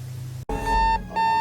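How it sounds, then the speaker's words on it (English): An alarm clock beeps loudly and close, two sustained electronic tones separated by a short gap, heard alone. "End alarm."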